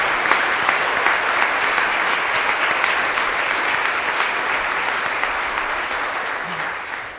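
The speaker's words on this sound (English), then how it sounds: "I do want our speakers to stand for a moment so we can pause and applause and thank them for their stories this morning" A morning audience at a Trinity gathering gives sustained applause to thank its speakers, a steady, dense roar of clapping that continues evenly for several seconds.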